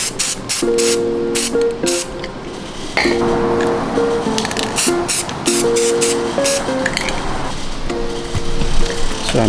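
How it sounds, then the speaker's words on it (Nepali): Spray paint hissing from an aerosol can onto sunglasses being customised, in several loud, steady bursts with brief pauses, light clinks and faint tonal background sound between them. "हामीले चाहिँ अब त्यसलाई चाहिँ अब मस्त स्प्रे हान्यौँ"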